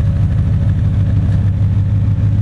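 A 1978 Datsun 280Z fitted with a V8 idles close by, a loud, deep, steady rumbling throb that stays even and alone throughout.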